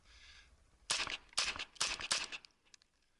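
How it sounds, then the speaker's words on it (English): An X95 rifle fires four sharp shots in close succession, loud and near, followed by a faint rattle and quiet. "We'll fire first right-handed, 2 shots."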